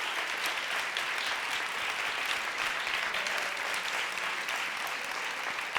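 A gala audience gives sustained applause for the sound, lighting and camera technicians, a dense, even wash of clapping at moderate distance.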